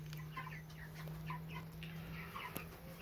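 Meat-bird hens cluck softly and repeatedly in a close flock, short murmuring calls overlapping at an easy rhythm over a steady low hum, with rain falling.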